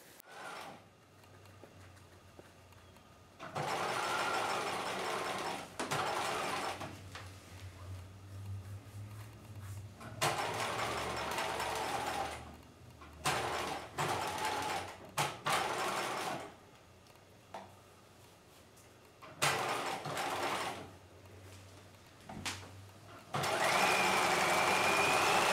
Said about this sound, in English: we're going to sew this from top to bottom with the clip side on top